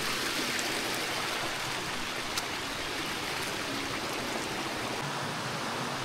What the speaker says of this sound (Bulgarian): Много хубав водопад.